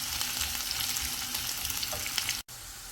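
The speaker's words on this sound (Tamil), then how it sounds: "நல்லா பொன்னிறமாக வறுத்தோம்" Sliced onions fry in oil with cardamom pods and cinnamon stick for a mutton gravy, a continuous close crackling sizzle that cuts out abruptly near the end.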